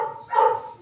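A female dog in heat gives a single short, close bark, brief and muffled, over a quiet indoor background.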